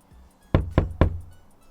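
Three sharp knocks in quick, even succession, close and loud against a quiet background, each ringing briefly before fading.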